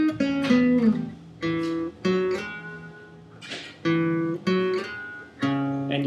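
Acoustic guitar riff, a sequence of strummed and picked chord phrases with brief pauses between, played close and clear with no talking.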